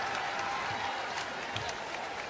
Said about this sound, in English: And the Gamecock fans on their feet applauding this big road win.